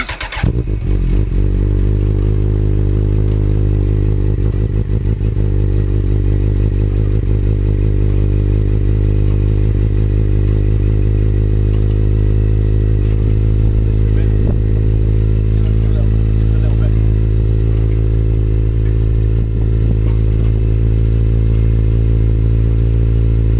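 A motorcycle engine catches after an oil change and settles into a steady, loud idle, a close, even low rumble with light mechanical clatter and no revving.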